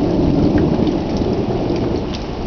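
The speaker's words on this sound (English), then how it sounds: "Thunder." A night thunderstorm in Amarillo, Texas, with heavy rain hammering down and low thunder rumbling beneath it, loud and continuous, with no talking.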